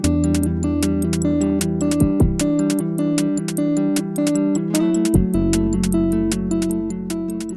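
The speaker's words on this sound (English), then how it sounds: "once it's in tune and in time, the 303 sounds like this." A squelchy Roland TB-303 acid bass line burbles over a steady electronic drum beat and arpeggiated backing, with a brief dropout of the low end midway.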